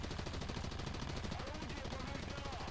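Gunners firing rapid machine guns in the War Thunder game, a relentless dense stream of rattling automatic gunfire, loud and continuous, with speech faintly mixed underneath.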